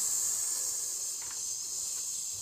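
A voice imitates a snake's hiss as a vocal warm-up: one steady, continuous breathy hiss held for about two and a half seconds, fairly quiet and alone.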